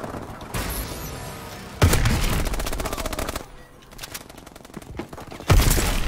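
Rapid automatic gunfire from the Riot weapon on the Riot map in Call of Duty Advanced Warfare, with loud dense bursts separated by a quieter stretch and a sharp burst returning near the end.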